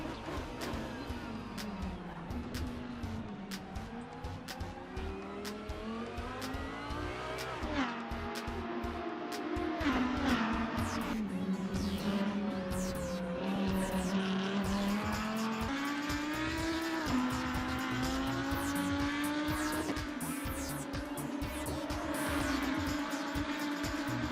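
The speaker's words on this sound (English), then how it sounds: "This is the Audi R8 LMS." An Audi R8 LMS race car in the Assetto Corsa racing game screams through gears, its engine pitch climbing and dropping with shifts, with tire squeal across a long continuous lap passage.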